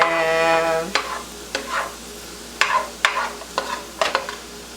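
Fried rice is stirred in a hot pan, a spatula scraping and tossing in repeated bursts over a light sizzle, close and fairly loud, with a brief tonal hum at the start.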